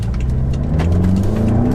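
A BMW X6M, a Cat N car weighing over two tons, pulls away under acceleration, its engine note climbing steadily in pitch as the gearbox takes up drive. The sound is loud, close and continuous, with no talk.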